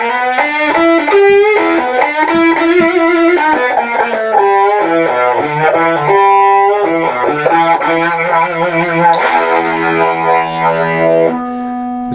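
Electric guitar played through a Stiff Hippy II overdrive pedal with the distortion cranked, a loud, gritty melodic run of sustained notes and chords, alone and upfront.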